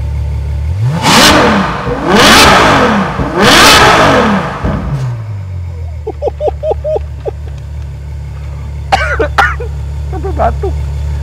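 A Ferrari FF's V12 engine is revved sharply three times, loud and close, then drops to a steady idle punctuated by brief sputtering pops.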